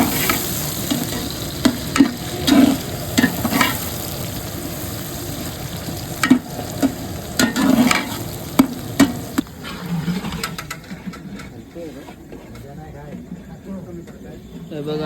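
Hot oil tempering for a chicken curry sizzles in a pan while a spoon scrapes and stirs in irregular bursts, close and fairly loud, then fades to a quieter simmer; voices talk over parts of it.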